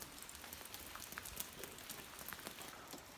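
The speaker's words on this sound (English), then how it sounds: "We're hoping that the rain's gonna slow down a bit till we get back here." Steady rain patters over a stair scaffold roof under construction at a fortified church, a dense continuous hiss of drops at moderate, even level with no speech.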